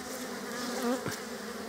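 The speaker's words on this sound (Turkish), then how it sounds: "Polen getiren arılar içeriye girebiliyorlar." Honeybees buzzing at a hive entrance during hive care, a dense steady drone with one louder bee passing close by, no talk.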